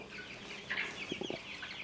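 Chickens cluck softly in a brooder box, a few short calls rising over a steady low background hiss, fairly faint and close.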